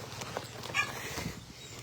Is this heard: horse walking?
yes